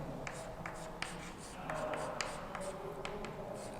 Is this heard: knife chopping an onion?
no